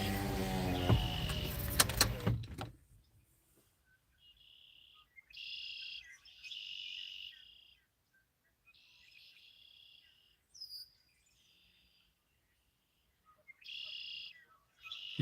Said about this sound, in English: Want to hear the birds singing?